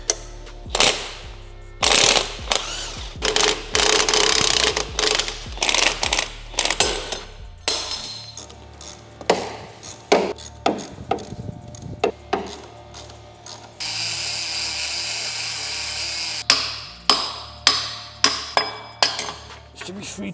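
A crusty, rounded bolt is worked loose and broken off on a VW Passat R36 with a ratchet, as rapid clicking bursts and sharp metallic knocks come and go in close, irregular spurts.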